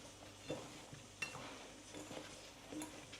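Paneer being stirred into paprika masala in a pan, a steady soft scraping and stirring with faint sizzling and occasional light clinks of the utensil, quiet and continuous throughout.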